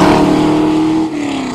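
A Ford Cleveland V8 in a De Tomaso Pantera revs loudly up close, a rich, sustained engine roar whose pitch holds and then eases slightly near the end.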